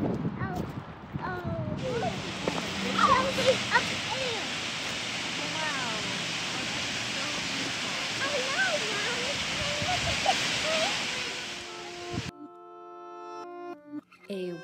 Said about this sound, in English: A nice, nice waterfall.